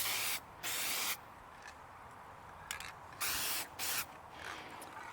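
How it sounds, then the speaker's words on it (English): Aerosol spray can hissing onto a cracked Toyota RAV4 radiator in bursts, two short blasts, a brief click, then two more sprays close to the listener with quiet pauses between. "Not even sure if this is still sprayable."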